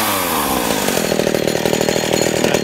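A modified Stihl 015 chainsaw runs steadily at high revs, a loud, continuous buzzing whine close by with a slight wavering pitch, and no one speaking over it.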